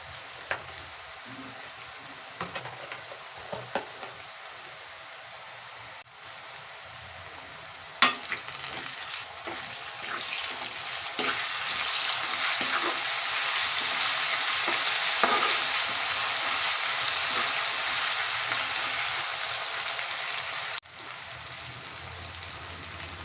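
Cloves and ginger garlic paste frying in hot oil for a country chicken curry, a steady close sizzle that swells louder midway, with a few stirring clinks and scrapes.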